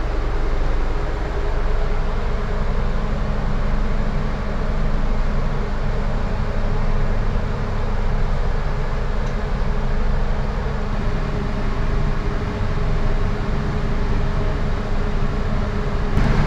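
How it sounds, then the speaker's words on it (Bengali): Suborno Express train pulling out of a station in Bangladesh, a steady low rumble and rolling clatter that holds loud and even throughout, with no voices. "হ্যাঁ, ট্রেন ছাড়ছে একবারে 7:30টায়।"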